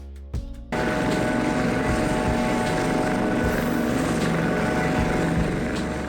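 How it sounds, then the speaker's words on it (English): A Coast Guard helicopter starts with a few sharp thumps, then holds a loud, continuous rotor and turbine roar for several seconds. "Coast Guard helicopter."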